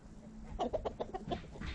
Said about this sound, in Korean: 흥부가 암탉과 교미를 하고 있다.